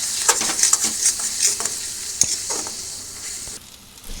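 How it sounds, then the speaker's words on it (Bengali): Coriander and cumin spices sizzling as they are stir-fried in a pan for a dal with fish head, steady frying hiss punctuated by sharp scraping stir strokes, close and alone. "এবার এটাকে ভালো করে মিশিয়ে নিয়ে ভালো করে এখন কষাতেই থাকবে।"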